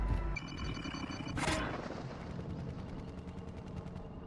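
Gunfire in a shooting video game, a dense stretch of rapid distant shots and rumbling blasts with one brighter burst near the start, steady and moderately loud.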